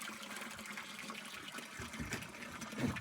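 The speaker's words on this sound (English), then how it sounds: "We're gonna try to pump the water out of the back." Water gushes and splashes steadily as it is pumped out of the back of a leaking riveted boat, a continuous close rushing with no talking.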